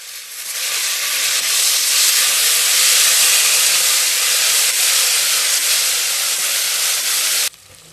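Onion, tomato, mint and coriander frying together in a pan give a loud, continuous, close hiss of sizzling that holds steady for several seconds before cutting off abruptly, with no voices.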